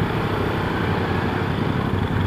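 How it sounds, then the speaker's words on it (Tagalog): A big sports motorcycle engine runs steadily and loudly up close, a dense continuous rumble with no pauses. "Big bike. Ang ganda ng tunog."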